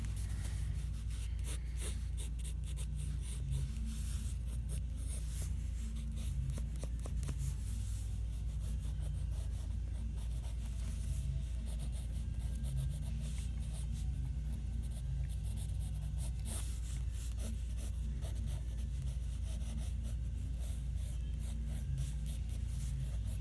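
A pencil sketches a figure and face on paper. The soft scratching strokes stay close and quiet and keep going with short pauses between lines, over a low steady hum.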